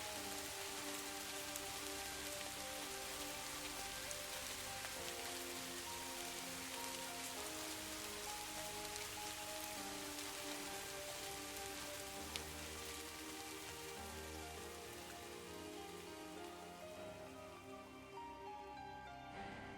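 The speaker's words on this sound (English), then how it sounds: "The sound of the droplets hitting the leaves is so soothing." Rain falls steadily at night, droplets pattering on leaves in a dense, even, soft hiss that lasts throughout, mixed with faint musical tones and no talk.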